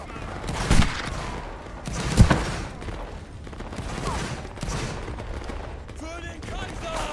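Musket volley gunfire in a Napoleonic Wars video game: a few sharp reports stand out, one heavier crack among them, over a constant rumble of distant shots and battle noise.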